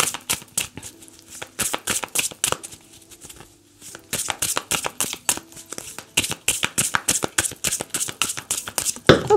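Oracle cards are shuffled and drawn for a card reading, a dense run of quick crisp riffling slaps and flicks at close range, briefly pausing midway before resuming steadily with no talking.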